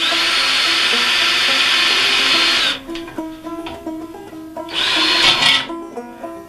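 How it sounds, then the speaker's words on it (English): A power drill whines loudly as it bores a hole into a metal syrup can for a banjo build, a sustained burst, then a pause with clicks and handling noises, then a second shorter burst. "So what if I just make a little hole here?"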